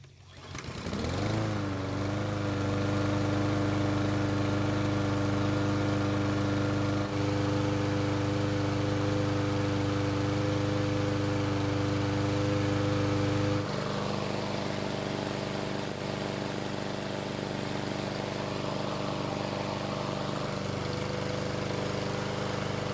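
A lawn mower engine with a garden hose attached to its deck starts with a sputter and settles into a steady, loud drone that runs on evenly with a slight shift in pitch partway through.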